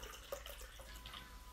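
Lukewarm water poured into a cup for bread dough in a home kitchen: a faint, soft trickle with a few small drips and splashes, close by and quiet, with no talking.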